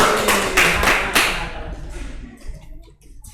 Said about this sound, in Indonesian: Oke, beri tepuk tangan semuanya.